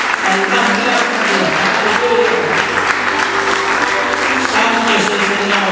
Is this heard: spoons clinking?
no